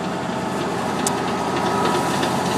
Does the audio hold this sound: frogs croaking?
no